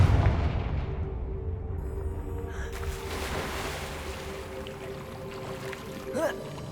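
A Confringo blasting spell cast in Hogwarts Legacy gives a loud rumbling burst over a steady game soundscape, followed by a brief flaring whoosh near the end.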